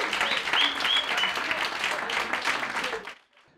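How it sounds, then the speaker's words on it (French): A conference audience applauds steadily and loudly for about three seconds before the clapping tapers off quickly to near silence. "j'aimerais qu'on les applaudisse un petit peu aussi"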